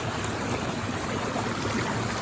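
Flowing stream water makes a steady, dense rush of broadband noise, close and unbroken, with no other sounds over it.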